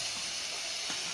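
Chopped tomatoes hiss and sizzle in a hot pan while bohar bhaji, a Chhattisgarh leafy vegetable dish, cooks. The sound is a continuous, close, bright hiss with slight bubbling swells and no voices.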